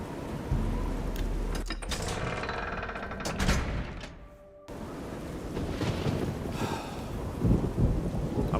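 Steady heavy rain in Elder Scrolls IV: Oblivion pours over a deep, rolling rumble of thunder, with a brief break in the middle before the downpour resumes at full strength.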